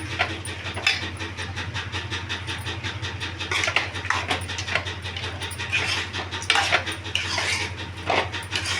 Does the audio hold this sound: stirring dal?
yes